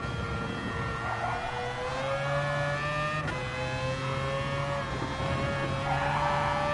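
Race car engine in Gran Turismo Sport, a loud sustained high-revving whine held close throughout, with a brief dip in pitch as throttle lifts mid-lap before climbing again, no talking.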